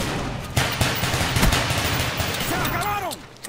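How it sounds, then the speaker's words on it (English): Gunfire in Call of Duty: Black Ops, a rapid burst of several loud, close shots over a busy game din, with a whistling sweep near the end. "Hearing shots."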